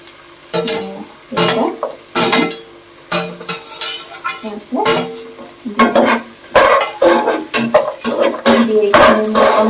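Chillies, carrots and raw peas frying in a pan for a potato vegetable pulao are stirred with a utensil, giving loud bursts of clattering and scraping against the pan over a faint sizzle, in irregular strokes close by.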